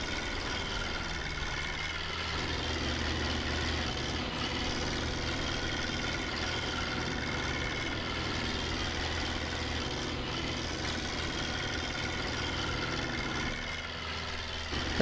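Modded tractor engine running in Farming Simulator 22, a steady, dense, loud mechanical drone with a low rumbling idle character, continuous and unbroken throughout, with no voices.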